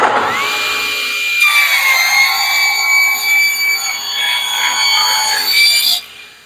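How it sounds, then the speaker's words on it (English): A power saw cuts wooden table leg pieces square to 1½ by 1½ inches, giving a loud, close, high whine as the blade runs through the wood for about six seconds before spinning down. "we're going to cut them 1½ inch thick on the other side so they're square"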